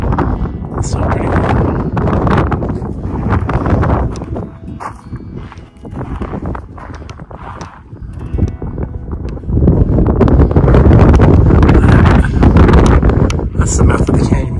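Gusty wind rumbles and buffets the microphone in Grapevine Canyon, loud and continuous with rising surges, while people talk over it now and then.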